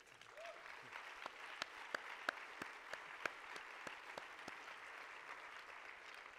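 Applause from an audience at the opening ceremony of a film festival, sustained dense clapping with a few sharper individual claps standing out, fairly distant and steady throughout.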